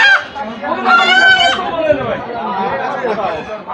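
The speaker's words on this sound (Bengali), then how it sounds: "এটা কি মুরগি?" Chickens and roosters at the Nagarpur poultry market in Tangail cluck and squawk close by, with a crowing call near the start, mixed under busy overlapping chatter of buyers and sellers.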